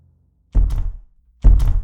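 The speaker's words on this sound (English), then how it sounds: "Hey, is the door stuck again?" A stuck door is pushed and thumped twice, two heavy, close knocks about a second apart with short resonant tails and silence between.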